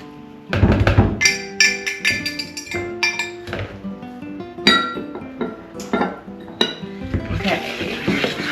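Graham cracker crust being mixed with butter in a bowl, with loud clinking and scraping of a utensil against the bowl in quick uneven strokes close up, under background music.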